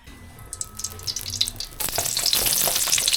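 Garlic hits a hot pan for papaitan and starts frying, a quiet low hiss that jumps into a loud, dense, crackling sizzle partway through, heard up close with no talk.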